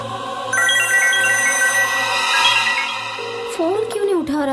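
A phone ringtone plays steadily for several seconds, loud and close, then a voice starts speaking over the end of the ringing.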